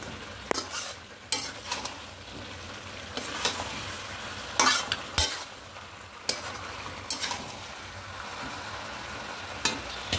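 Fried potatoes get stirred into chicken biryani in a sizzling pan, with repeated close scrapes and knocks of the spoon over a constant frying hiss and no voices.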